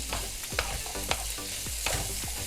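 Onion, garlic, shallot, sweet pepper and carrot stirred in a frying pan for Thai pineapple fried rice, with a steady sizzle broken by several sharp scraping strokes of the spoon, close and fairly loud, no talk.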